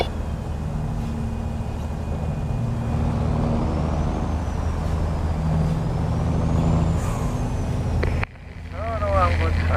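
In American Truck Simulator, an underpowered, low-horsepower truck engine drones heavily as it labors up a hill. The deep rumble is loud and sustained and rises slowly, then cuts off abruptly near the end, and voices chat over it.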